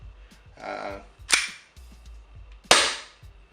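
A KWA ATP airsoft pistol fires two sharp, snappy shots about a second and a half apart, close and loud over faint background noise.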